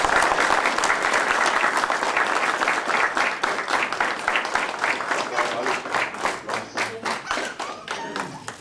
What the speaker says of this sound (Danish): Så jeg synes, vi skal lige give dem et lille klap.